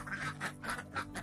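Caged egg-laying ducks quack in a quick run of about five nasal calls over a little more than a second, close and fairly loud, with no talking.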